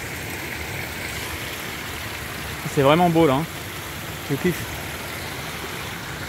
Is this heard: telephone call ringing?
no